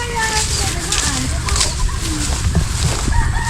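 Chickens cluck and squawk repeatedly nearby, with a few higher calls, over a busy outdoor background with people talking, beside a house in San Miguel, Bulacan.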